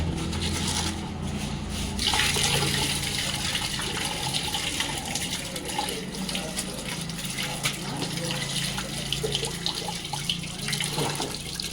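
Water gushes and splashes steadily while draining from soaked poha at a roadside dhaba kitchen, a continuous close running-water sound with clattering vessels.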